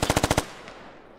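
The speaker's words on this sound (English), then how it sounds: "We even have covering fire coming out here" A machine gun fires covering bursts across buildings in the SquadOps military shooter game: six rapid, evenly spaced, loud shots followed by a fading echo tail.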